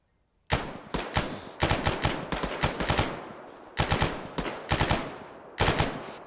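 Gunfire during a security firing exercise comes in sharp, loud shots fired in quick bursts of two to four, separated by brief pauses, close and distinct, with no talking.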